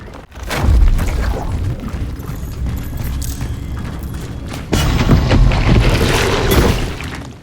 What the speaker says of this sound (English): just listen to these ambient sound effects when exploring. It is like the walls are alive.